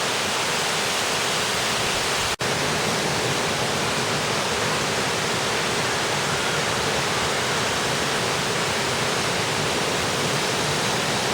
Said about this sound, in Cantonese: 呢度係神龍瀑布啊！